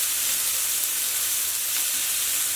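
Smashburger patties sizzle on a cast iron griddle on a stovetop, producing a loud, even, continuous hiss close by with no voices.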